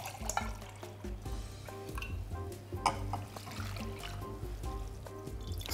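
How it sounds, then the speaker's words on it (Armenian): Cold water, about four times the volume of the coarsely ground roasted flour, trickles and splashes into a cooking pot. The pour is steady and close, with a few light clinks and knocks over a low background hum. "4 անգամ ավելի շատ սառը ջուր ենք ավելացնում"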